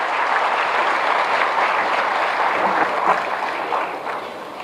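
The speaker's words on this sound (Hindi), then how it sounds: "जोरदार तालियों से स्वागत करें पुनः आप सब" A rally crowd applauds to welcome Bihar's chief minister Nitish Kumar, a dense, steady clapping roar that fills the whole stretch and eases off slightly at the end.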